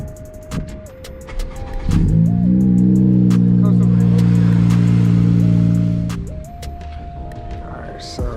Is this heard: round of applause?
no